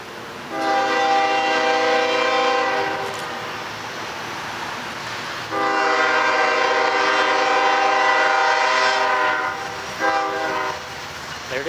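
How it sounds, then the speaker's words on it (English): A Norfolk Southern molten sulfur freight train with CN locomotives rolls past a crossing in Austell, Georgia, with two long, loud horn blasts separated by a pause, then a shorter final blast, rumbling steadily underneath. "Gates down. Train coming."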